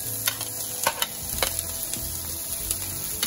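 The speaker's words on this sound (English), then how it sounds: "Once it's golden brown, as you can see now, add the onions" Onions and garlic fry in olive oil with a steady, close sizzle. A spoon stirs the pan, giving several sharp scraping clicks, and no one speaks.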